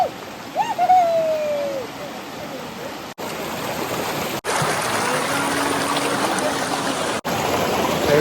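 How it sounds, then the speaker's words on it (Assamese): Water rushes steadily at Hatigaon waterfall in Goalpara, a continuous broadband roar that fills the whole stretch, with a brief voice and whistle-like tones near the start. "পানীৰ চাউণ্ড"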